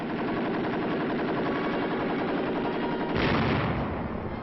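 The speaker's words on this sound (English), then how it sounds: "Comparison firing, 50 caliber machine gun." A 50 caliber aircraft machine gun firing continuously in a comparison demonstration, a dense sustained roar of rapid shots on an old, band-limited recording, with a slight change in tone after about three seconds.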